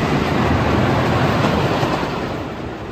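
A roller coaster train at Waldameer amusement park passes close by with a loud, broad rumbling roar that fades slightly toward the end.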